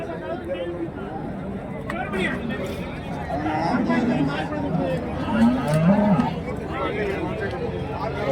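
Cattle, including Jersey cows, low and moo nearby amid a busy crowd at the Karimangalam cattle market in Dharmapuri, India, with people chattering and calling in the background throughout.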